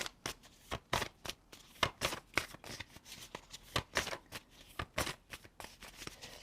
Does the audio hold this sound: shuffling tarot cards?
yes